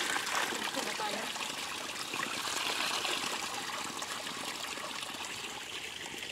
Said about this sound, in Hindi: हाँ देखिए स्रोत का पानी है